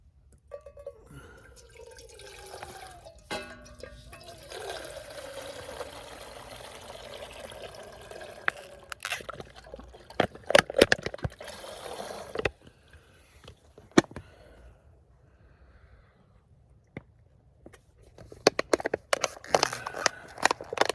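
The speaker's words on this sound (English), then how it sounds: "I guess we're just gonna dump some water in here." Water pours into a container outdoors on a hike at Grand Mesa, a continuous splashing stream that thins out, followed by scattered drips, clinks and handling noises.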